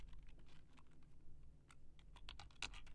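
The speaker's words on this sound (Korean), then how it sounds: "그러면 and 똑같이 타이핑 하시면 됩니다" Quick, irregular key clicks from typing on a computer keyboard, close but quiet, with a few sharper taps near the end and no speech.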